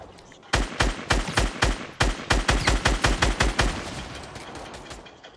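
Rapid automatic gunfire from Fortnite Battle Royale rattles off in a quick, even string of a dozen or more loud shots, then trails into a softer, noisy tail.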